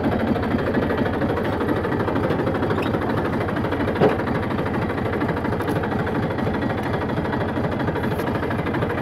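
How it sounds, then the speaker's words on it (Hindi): A Massey tractor engine runs steadily throughout at a constant, loud drone with a dense low rumble, heard on a farm trip to fetch straw at night, with no speech over it. "स्पेशल मैसी ट्रैक्टर पर।"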